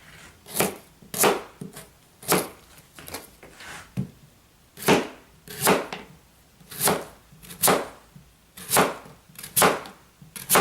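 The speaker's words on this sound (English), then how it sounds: "just gonna slice this up." A knife slices through food on a cutting board in about a dozen evenly spaced, crisp cuts, each with a sharp strike. The cuts are close and clear, and no one talks.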